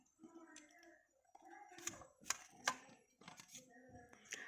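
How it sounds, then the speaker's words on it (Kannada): Food being cut by hand, a series of sharp, irregular chops and clicks mixed with soft chatter from several people nearby. "ನೋಡಿ ಫ್ರೆಂಡ್ಸ್, ಎಲ್ಲ ಹೆಂಗೆ ಕಟ್ ಮಾಡ್ತಾ ಇದ್ದಾರೆ"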